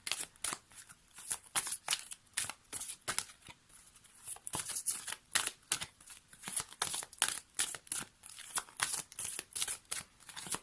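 Oracle cards shuffled by hand for a reading, a quick, steady run of crisp riffling slaps and papery flutters, close and fairly quiet, with no talking.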